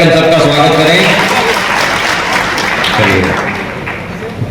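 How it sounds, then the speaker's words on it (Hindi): Loud audience applause at a community gathering welcoming new members, a crowd clapping with voices and chatter mixed in, strong at first and easing off toward the end. "और जोरदार ताली बजा के हम सबका स्वागत करें।"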